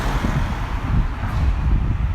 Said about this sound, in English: Like every time you try to shoot a video, the noisiest cars come by.